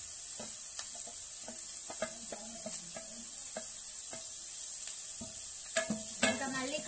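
Carrot and green chillies fry in a pan with a steady close sizzle, broken by repeated scraping clicks of a spoon stirring, growing a bit busier toward the end.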